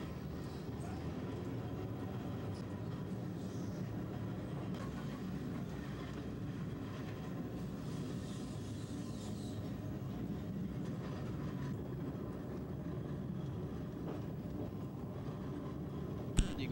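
A train runs along a line in Barcelona with a continuous low rumble and steady rolling noise, heard at moderate distance throughout with faint clatter and no clear talking.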